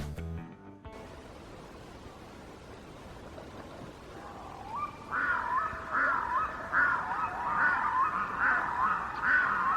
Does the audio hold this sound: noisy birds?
yes